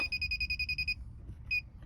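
A Kaiweets or Nokta metal detecting pinpointer in alarm-only mode sounds a rapid string of about nine high, pure beeps, then a pause and one more short beep, close and clear over low handling rumble.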